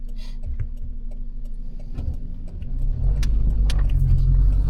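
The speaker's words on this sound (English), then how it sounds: "There's a car coming." A car approaching along a road, its engine rumble and tyre noise building from faint to loud and close over several seconds, with small jingling clicks near the start.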